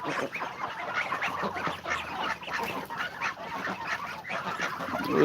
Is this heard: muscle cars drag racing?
no